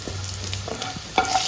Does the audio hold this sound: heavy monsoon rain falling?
no